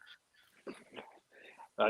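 A dog makes a few quiet, short whines and yelps close by, mixed with intermittent soft speech.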